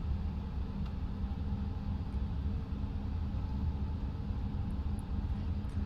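Airbus A320neo taxiing along a long straight taxiway toward runway 26 in Microsoft Flight Simulator 2020, a steady low engine rumble and hum that continues evenly throughout.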